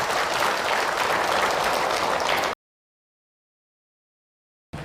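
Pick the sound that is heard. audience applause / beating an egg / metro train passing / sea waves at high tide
audience applause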